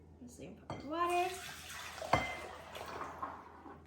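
Water poured into a bowl holding rice and a cinnamon stick for horchata, a steady close splashing stream, with a brief clatter midway and a voice speaking at the start.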